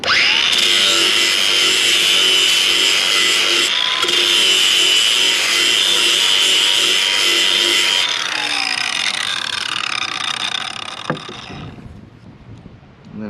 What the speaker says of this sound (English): So I take my flap disc on the grinder.